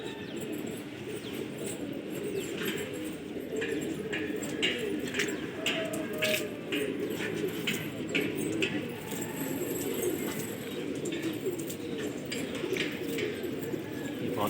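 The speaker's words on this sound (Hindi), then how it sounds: "ये कबूतर आ रहे हैं।" A flock of pigeons flies and coos over a rooftop in Lucknow, with steady murmuring coos, soft chirps and bursts of flapping wings at close range, continuous throughout.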